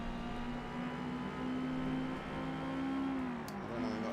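A Forza Motorsport race car engine drones at a steady pitch, briefly easing off and rising again as the throttle changes, continuous and fairly close with no voices over it.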